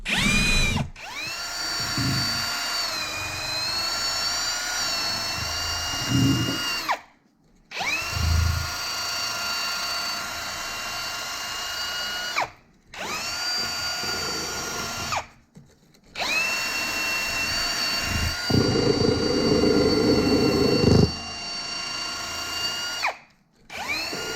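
A power drill fitted with a wire brush cleans a metal face on a Massey Ferguson TEA 20 tractor, running in long, steady bursts with a high whine, briefly stopping and restarting several times; a rougher grinding texture creeps in near the end.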